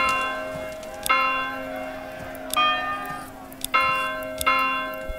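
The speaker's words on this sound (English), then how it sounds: "Some sort of victory chime." Victory bell from the Manor Lords city-building game, rung several times in succession: bright, resonant strikes that ring on with long sustained tones and overlap, with no talk over them.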